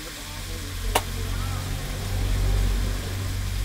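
Fish frying in a pan with cumin powder added, a steady broadband sizzle running throughout with a low rumble beneath and one brief sharp click near the start; no talking.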